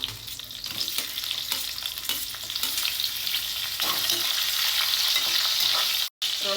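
Black peppercorns and onion fry in a pan, with cardamom nearby, giving a steady, close crackling sizzle broken by occasional stirring scrapes, cutting out briefly near the end.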